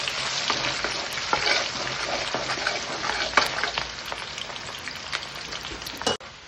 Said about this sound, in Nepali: अब यो अदुवा लसुन मैले यसलाई फ्राई गर्दैछु।